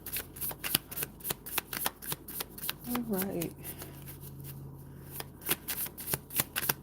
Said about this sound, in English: So as we're shuffling the cards too